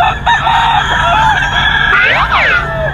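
Chickens from a gamefowl keeper's stock in Bocaue with a rooster crowing close by, its long rising-and-falling crow standing out near the end over a steady bed of clucking and farmyard noise.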